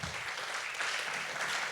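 An audience at a regional poetry slam final claps for a poet, a brief, dense burst of applause that stays level throughout.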